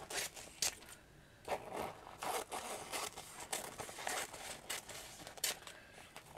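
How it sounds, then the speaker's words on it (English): Scissors cut satin fabric into strips with a series of soft, close snips and slithering rasps, quiet and irregular. "so I'm going to use the satin. And I'm just going to cut this"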